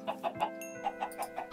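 Chickens in a Minecraft video game cluck in a steady run of short, evenly spaced calls, close and fairly loud, with no talking over them.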